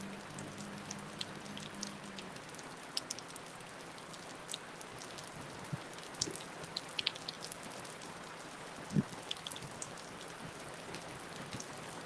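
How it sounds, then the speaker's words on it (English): Heavy rain pours steadily onto a campsite, a dense, close patter with occasional louder drops striking nearby surfaces, continuing throughout with no voices. "Got to talk loud because of the rain"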